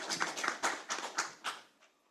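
An audience at a live robotic pancreaticoduodenectomy surgical demonstration gives brief applause, a short burst of clapping in loose pulses that fades out within about two seconds.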